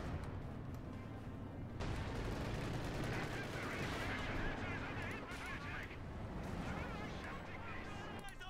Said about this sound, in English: Panther shoots, misses.